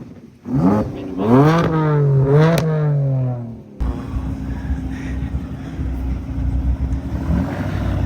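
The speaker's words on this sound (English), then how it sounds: "Oh, we've got a nice BMW coming up here then." A BMW at a car meet arrives with a loud revving engine that climbs and drops in pitch several times, then settles into a steady lower rumble as it drives past amid outdoor background noise.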